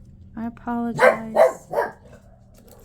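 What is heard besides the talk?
dog barking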